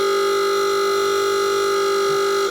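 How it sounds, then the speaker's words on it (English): A loud, harsh, buzzing old Model T klaxon horn blares continuously for a couple of seconds with a steady nasal tone, then cuts off. "the old klaxon, the old Model A and Model T horn"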